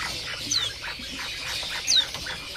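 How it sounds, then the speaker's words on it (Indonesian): A female mugimaki flycatcher gives two short, high chirps, spaced about a second and a half apart, over a low murmur of other caged birds at a market. "Ini ada teledekan mogimaki betina."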